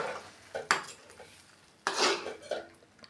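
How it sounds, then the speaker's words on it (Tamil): Rava kesari being stirred in a kadai, a metal spoon scraping and clanking against the pan in two short bursts separated by quiet, close and fairly faint, with no talking. "இந்த கடாயில் போட்டுட்டு நல்லா கிண்டி கிளறிட்டு போகிறோம்."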